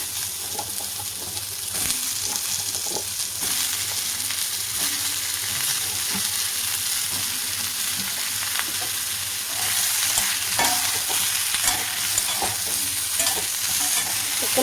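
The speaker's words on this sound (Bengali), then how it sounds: "এখন কুমড়াটা দিয়ে দিচ্ছি।" Raw pumpkin tumbles into a kadai of frying onions, then stirring scrapes and clatters over a constant, close sizzle, with no one speaking.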